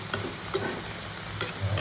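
Young jackfruit is stir-fried in a pan. A steady soft sizzle runs under a few sharp spatula scrapes at irregular intervals, close by, with no talking.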